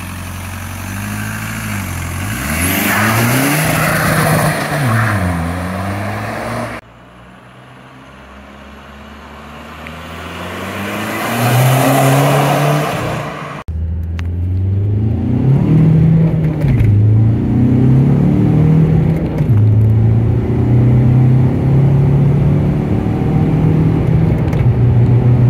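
A stage 3 tuned VW Golf 4 TDI diesel accelerating hard through the gears, with loud rising engine and turbo pitch sweeps, a brief drop in power between shifts, and steady road and wind noise around it.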